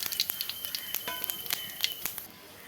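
Cumin seeds and whole bay leaves spluttering in hot oil, a quick run of sharp close crackles and pops over a soft hiss.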